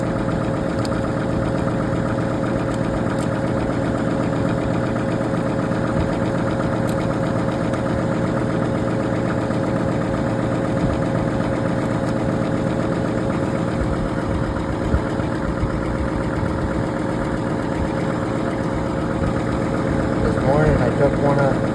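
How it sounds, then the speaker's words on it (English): A tractor engine idles steadily nearby with a constant low, knocking rumble, and a voice speaks over it now and then. "This one here is my dad's tractor"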